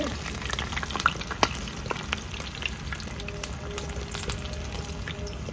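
Chicken tikka fries in a pan with steady, close sizzling and bubbling, scattered with sharp crackles and pops, while faint talk sits in the background.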